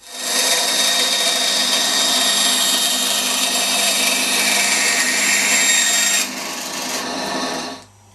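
A saw cuts a slot through a metal bolt for a coin magic trick, with dense continuous rasping strokes close up and loud, easing off near the end.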